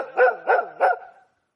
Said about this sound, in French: Le chien d'Arthur est sorti en aboyant.